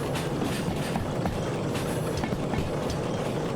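Freight train rolling past in the Derail Valley railway simulator, a steady loud rumble with continuous clickety-clack of wheels over rail joints, heard alone without talk.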